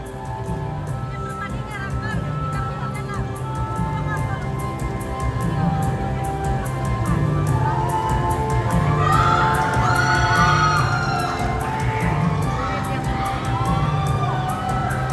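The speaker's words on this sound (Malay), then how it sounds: "Tepukan gemuruh" A crowd cheers and shouts continuously at an Unduk Ngadau Kaamatan 2025 pageant catwalk, the noise blended with steady background music and rising in excitement toward the middle.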